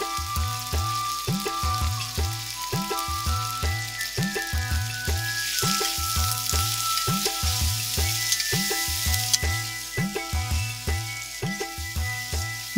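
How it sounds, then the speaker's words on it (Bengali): Potato pieces fry in oil with turmeric and salt, a steady hiss of sizzling running under a loud, rhythmic music track that dominates throughout. "কেটে রাখা আলুর টুকরোগুলো এখন ভাজা হবে।"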